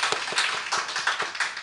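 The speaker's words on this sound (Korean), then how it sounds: "우리 큰 박수로 환영하겠습니다." A small church congregation claps to welcome newcomers, a modest, fairly quiet round of hand claps in a loose, quick rhythm with no talking.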